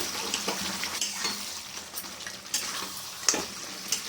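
Mutton curry sautéed in a pan with released oil, a close steady frying sizzle under rhythmic scraping stirs and occasional light metal clinks.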